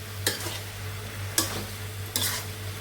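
Vegetables sizzle in a pan at low level while a spoon scrapes through them in three distinct stirring strokes, a steady hum running underneath.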